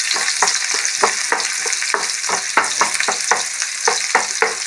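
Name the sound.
onion frying in coconut oil in a pan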